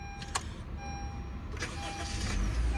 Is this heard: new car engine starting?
yes